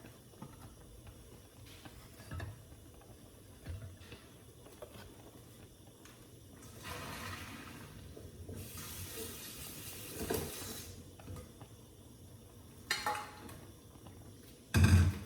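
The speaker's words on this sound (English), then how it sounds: "I'm just going to drain off the liquid there." Cooking water is poured off red lentil pasta at a kitchen sink, giving intermittent splashing and clattering with a steady low background, then a loud knock near the end; no talking.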